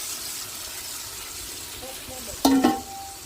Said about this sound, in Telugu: ఉప్పేసి చికెన్ వేసుకుందాం దీంట్లో